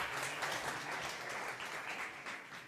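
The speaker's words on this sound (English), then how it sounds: "Big applause on stage" An audience at a startup competition on stage gives steady applause, a soft, even wash of clapping heard from a distance.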